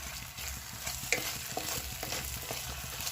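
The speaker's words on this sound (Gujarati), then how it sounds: "એને આપણે સરસ રીતે શેકાવા દઈશું" Soft, steady sizzling of ginger garlic paste frying in a pan, with light scraping and stirring taps throughout; quiet and close.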